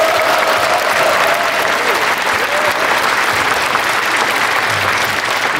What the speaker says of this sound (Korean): 서로 한번 박수 부탁드립니다.